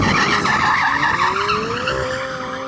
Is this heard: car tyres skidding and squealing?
yes